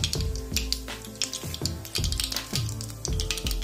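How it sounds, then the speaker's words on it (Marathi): Mustard seeds and cumin crackling in hot oil for a Marathi-style tempering, heard as dense, irregular popping and spattering that keeps going steadily close by, with no voices. "मोहरी तडतडायला लागली आपली।"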